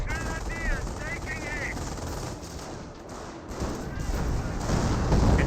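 Battle gunfire from Company of Heroes, with bursts of machine-gun fire and explosions under a continuous roar of combat, a whistling shell early on and a barrage building loudly at the end.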